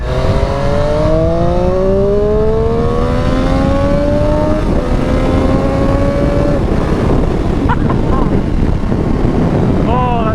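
A 2019 Triumph Street Triple 765 motorbike engine revs hard into high RPM while riding, its loud whine climbing in pitch through successive gear pulls over steady wind roar.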